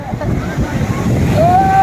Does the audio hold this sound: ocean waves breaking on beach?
yes